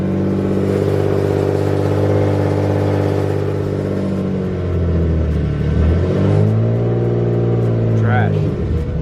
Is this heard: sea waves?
no